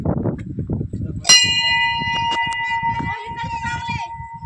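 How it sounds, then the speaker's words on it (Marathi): A single temple bell at a hill fort strikes once with a bright, ringing tone that lingers and slowly fades, while a person keeps talking over it. "तर घंटा आहे अशी"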